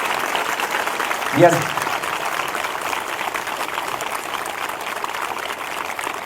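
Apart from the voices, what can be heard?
applause in church congregation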